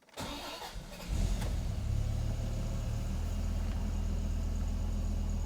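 A 1996 Dodge Viper GTS, 28 years old, cranks briefly and fires, then settles into a deep, steady, loud idle close by, with no voices.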